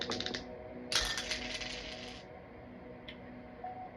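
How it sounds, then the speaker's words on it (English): Astrology dice rolled by hand give a close, bright rattling clatter: a quick burst at the start, then a longer tumbling rattle that settles, with a faint click afterward. "I'm going to roll the astro dice."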